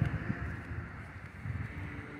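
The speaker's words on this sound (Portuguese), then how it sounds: "Bastante vento." Night wind blowing through a tree in Campos dos Goytacazes under an overcast sky, a steady broadband rush with gusty low rumbles and a couple of stronger swells, close to the microphone and with no talking.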